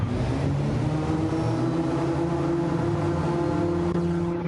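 A loud, steady NASCAR Cup Series race car engine roar at full throttle during the Daytona 500, with a sustained droning tone, holding constant throughout without pause.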